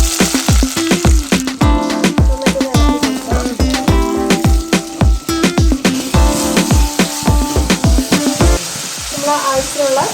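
Chopped shallots and curry leaves, with fenugreek, fry in a hot pan for a prawn theeyal, giving a loud, steady sizzle broken by dense crackling pops throughout.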